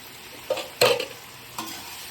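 Tomatoes frying in a pan for a curry, a soft low sizzle broken by a few distinct scrapes and knocks of a spatula against the pan, close and without talk.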